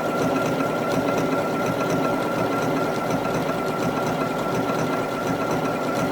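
A sewing machine running at high speed while stitching down the edge of fabric, a steady dense mechanical whirr and rapid needle clatter throughout, close and even.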